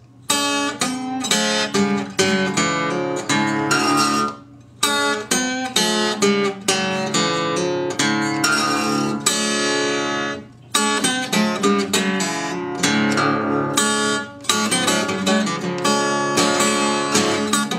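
Acoustic guitar playing a blues lick at a slowed pace. Busy picked notes run continuously and loudly with two brief pauses.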